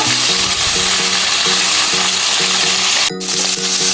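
Marinated chicken pieces for butter chicken sizzle loudly in hot oil as they are turned over, a steady close frying hiss with rhythmic scraping strokes and one brief clatter near the end, no talking.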